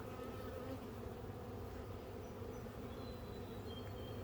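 A dense, steady buzzing of many bees hums continuously throughout, with no voices.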